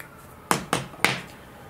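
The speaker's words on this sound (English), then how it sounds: "I'm going to punch holes in the plastic where the screws to mount the servo goes." A pointed metal tool punches screw holes in plastic for mounting an aileron servo, giving three sharp, close taps in quick succession, each with a brief ringing tail.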